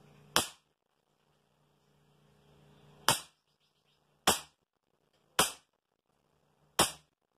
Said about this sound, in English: There's 5 quick shots. Semi-auto.